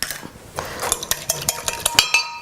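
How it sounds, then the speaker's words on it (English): Two eggs beaten in a bowl with a utensil for a broth soup, a quick series of sharp clinks and taps against the bowl, close and clear with no talking. "I'm going to take 2 eggs and beat them up"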